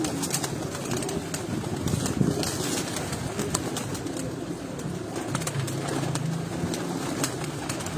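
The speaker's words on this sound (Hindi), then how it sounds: "ये मादा केज है परवाजी कबूतरों का" Female racing pigeons in a cage coo softly and repeatedly, low throaty calls layered over a steady background hum, fairly close with no talk.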